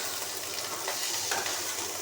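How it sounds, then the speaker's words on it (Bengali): Rice frying in ghee and oil while being stirred: a continuous close sizzle with a broad hissing texture and occasional scraping strokes from the spoon, steady throughout without speech. "আর এটা ঘি আর তেলের মধ্যে একটু ভাজা ভাজা করতে হচ্ছে"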